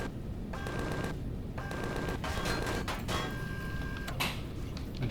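An automated turret in the sci-fi survival game Empyrion fires at enemies, sharp bursts of gunfire repeating in quick volleys over a steady background hum, with brief pauses between salvos.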